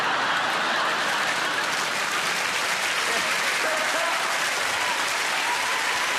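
Large theatre audience applauding a cellist at the Royal Variety Performance, a broad, sustained roar of clapping with crowd noise throughout.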